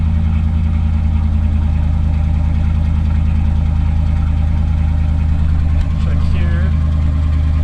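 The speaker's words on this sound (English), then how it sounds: "Let it idle a minute here, make sure there's no codes that are going to pop up." A car engine idles steadily and close by after being started, with a low, even rumble throughout. A person speaks briefly near the end over the engine.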